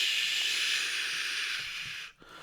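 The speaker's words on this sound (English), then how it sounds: "The sound of sizzling earth erupts from the huge crater that's displayed in front of him." Sizzling earth erupting from a huge crater: a steady, loud broadband hiss like escaping steam fills the whole stretch, briefly cutting out near the end before resuming.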